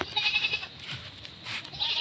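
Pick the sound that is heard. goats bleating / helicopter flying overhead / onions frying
goats bleating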